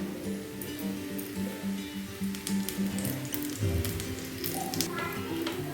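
Multigrain adai cooking in ghee on a hot pan, a steady soft sizzle and crackle close by, with scattered pops and light clatter over the hiss.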